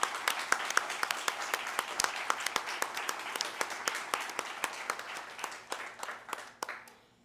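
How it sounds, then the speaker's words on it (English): Applause from an audience at a community charity campaign kick-off, honoring local service providers; steady, dense clapping throughout with sharper individual claps standing out, tapering off near the end. "give a round of applause to all of our service providers"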